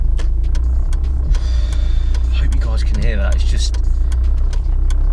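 A Ford Fiesta RS Turbo, a four-owner car around 100,000 miles, runs with a steady low engine hum underneath, with someone speaking over it.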